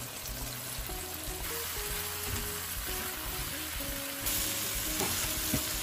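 Loitta dried fish fries with tomatoes and salt in a pan: a steady, moderately loud sizzle with faint stirring scrapes and a low hum beneath, no voices.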